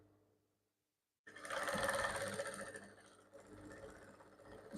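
After a near-silent pause, a sewing machine starts up and runs steadily, stitching fabric for a kimono top, its close, even whir slowing slightly near the end.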